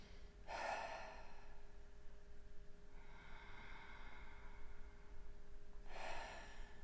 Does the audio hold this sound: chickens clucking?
no